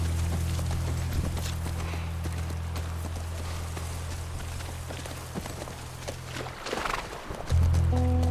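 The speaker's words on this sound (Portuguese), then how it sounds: "O Joey em cima do cavalo" Horse hooves clip-clopping in The Last of Us video game, a steady patter of hoof beats over a low droning hum that cuts out briefly near the end.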